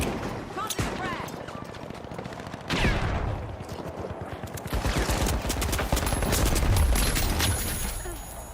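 Rapid gunfire and a frag grenade blast in The Finals, dense crackling shots followed by a heavier burst of explosive noise, under ongoing talk.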